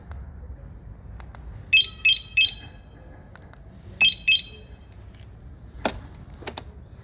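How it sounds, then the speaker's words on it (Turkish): An Arora CRV 125 motorcycle's keyless-start alarm chirps in two short bursts of three and two electronic beeps, followed by a few sharp clicks over a low idle hum. "Alarm devreye girdi."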